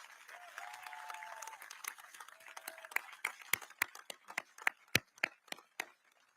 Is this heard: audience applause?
yes